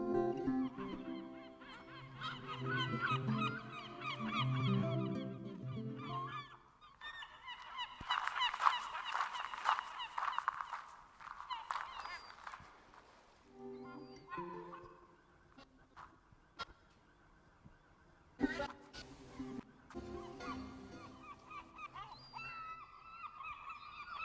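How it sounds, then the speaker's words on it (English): Recorded seagull cries played through a speaker system as a moving sound source in a listening test lab, a loud, continuous flock of honking, squawking calls over about twenty-four seconds. "I can bug him with these seagulls, let them follow him just manually at this point"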